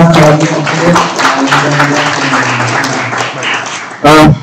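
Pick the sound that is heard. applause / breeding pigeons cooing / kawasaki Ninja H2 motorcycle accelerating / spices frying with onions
applause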